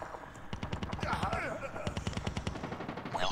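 Rapid bursts of automatic gunfire rattle through a clan war video game battle, dense clustered shots over several seconds with a player's voice talking across them.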